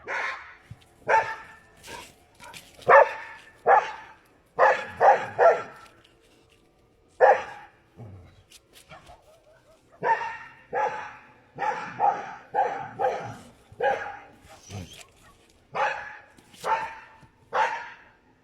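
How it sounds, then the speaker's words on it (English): Several dogs bark frantically in repeated bursts of yips and bow-wows, loud and near, with brief pauses between volleys and no talk over them. "That flashing and the dogs are going berserk."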